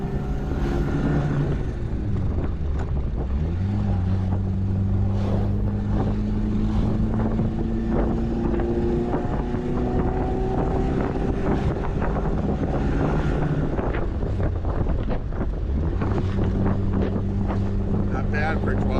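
A 70-year-old MG T with a 1200 cc non-turbo engine drones steadily while driving, its pitch climbing and falling through gear changes over constant wind rush, with a voice talking over it.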